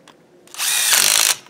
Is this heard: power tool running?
yes